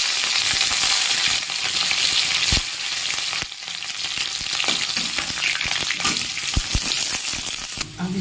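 Chillies sizzle and fry steadily in hot mustard oil in a kadhai, a loud continuous hiss with a few sharp pops throughout, no talking.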